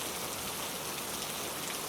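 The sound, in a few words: rain falling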